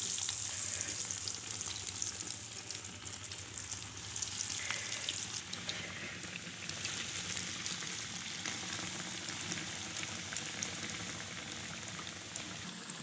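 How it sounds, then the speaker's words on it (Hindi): Chicken bread sandwiches fry in a pan over low heat, giving a steady, soft sizzle and crackle that carries evenly through the whole stretch with no talk over it. "अब इसको हम फ्राई कर लेंगे, हल्की आंच पे करना कि ऊपर से जल ना जाए"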